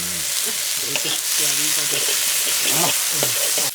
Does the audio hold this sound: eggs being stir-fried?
yes